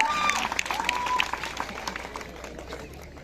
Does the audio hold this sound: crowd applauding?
yes